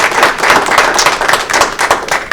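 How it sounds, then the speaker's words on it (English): Applause from the audience at a city council meeting in Fremont, Ohio: a dense, loud round of many hands clapping together, steady throughout with no speech over it. "And I'd ask everyone to give them a round of applause."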